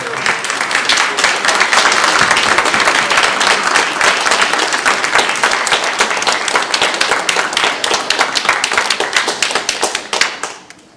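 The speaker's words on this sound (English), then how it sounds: "Please give them a round of applause." At a Veterans Day ceremony, an audience claps for the veterans in a loud, sustained round of many hands lasting about ten seconds, with crisp close claps standing out before it quickly tapers off.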